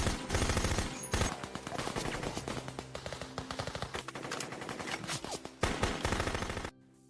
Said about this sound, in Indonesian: Majesi melepaskan tembakan diikuti teman-temannya.